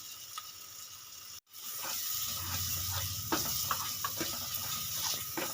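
Ginger paste and garam masala frying in a pan, briefly cut off, then a steady hiss of sizzling returns with soft scraping strokes of stirring close by.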